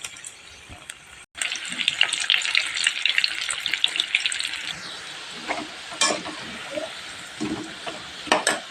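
Vegetables for undhiyu frying in hot oil, a steady close sizzle with occasional stirring clatter and water-like splashes, starting after a brief pause.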